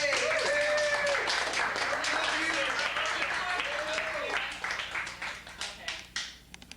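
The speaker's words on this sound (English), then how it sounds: "You could clap." An audience at a poetry reading breaks into brief clapping that thins out into scattered claps, while a voice talks over the applause.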